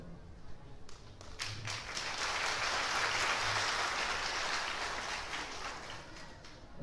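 Applause from an audience at a formal Turkish gathering with East Turkestani guests, a broad steady wash of clapping that swells and holds for several seconds in a hall, with no talk over it.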